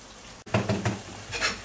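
Salted, peppered diced chicken breast goes into a pot of boiling vegetables, with a quick splash and clatter followed by bubbling and sizzling close by, brief and fairly loud.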